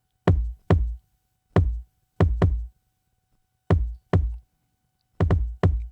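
Trap kick drum blended with parallel compression in a hip hop drum mix: punchy low kicks arriving in close pairs, eight hits in all, each with a sharp attack and short decay, separated by silence.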